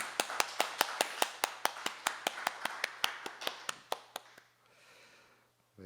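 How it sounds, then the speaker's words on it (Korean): A church congregation at an early-morning service claps together in thanks, roughly twenty sharp, evenly spaced claps in a quick steady rhythm that stop abruptly, leaving a low hum and quiet room tone. "우리 하늘의 하나님께 감사의 박수 올려드릴까요?"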